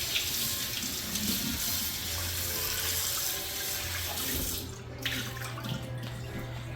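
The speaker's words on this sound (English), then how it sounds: "And we're going to rinse it with some hot water." Hot tap water runs steadily into a sink as a cast iron skillet is rinsed, a continuous close splashing flow that shifts slightly as the pan moves under the stream, with no talking.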